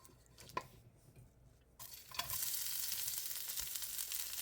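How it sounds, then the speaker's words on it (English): Onion sautéing in a tablespoon of sesame oil in a clean pan: a steady, close sizzle bursts up after a few quiet scrapes and stirs, then hisses evenly to the end. "add a tablespoon of the sesame oil and we're going to saute the onion first"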